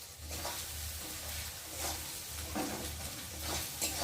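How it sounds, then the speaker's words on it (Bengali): Spice masala fries and sizzles in a pan while being stirred for a chicken dish, with a steady close sizzle broken by repeated scraping stirs. "দেখো মশলা ভাজা ভাজা হয়ে গেছে"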